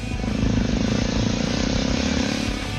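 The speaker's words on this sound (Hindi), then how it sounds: "Lieutenant general वाई.के. जोशी की अगुवाई में बाइक से सैनिक बढ़ते रहे।" Indian Army soldiers ride motorcycles in a rally toward the Kargil War Memorial via Zojila Pass, their engines forming a loud, steady, dense drone throughout with no pauses.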